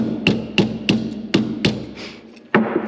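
A hammer drives a pin out with a welding rod used as a punch during a locker install on a 2021-or-later Kawasaki Mule Pro, giving six sharp metallic strikes spaced about a third of a second apart, loud and close.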